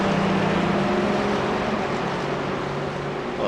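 Race car engine in iRacing at Bathurst, a steady droning roar holding a constant pitch without letting up.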